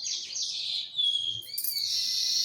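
A sparrow building its nest in a drumstick-leaf tree by a house gives bright, rapid chirps and short tweets close by, with no talking.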